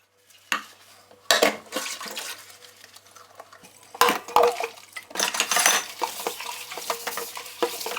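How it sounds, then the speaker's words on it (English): Dishes washed in a home kitchen: irregular clinks and clatters of plates, pots and cutlery, with bursts of running water splashing between quieter pauses. "Now onto the kitchen, let's do some dishes."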